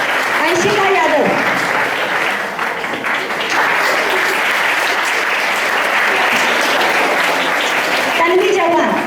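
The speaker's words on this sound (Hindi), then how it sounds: "तालियां बढ़ती रहनी चाहिए।" Sustained, loud applause fills a school Hindi Bhasha Diwas certificate ceremony, a thick wash of hand claps that never pauses, with a presenter's voice breaking through early and again near the end.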